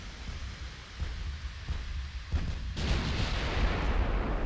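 Naval gunfire between warships in Ultimate Admiral: Dreadnoughts: a dense, rumbling roar of heavy guns that swells into a louder, sustained barrage midway, with no voices.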